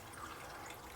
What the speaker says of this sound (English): take the alcohol and pour it in